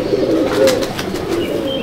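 Pure Chennai breed pigeons coo in a loft, soft rolling low calls repeating close by, with no talk over them.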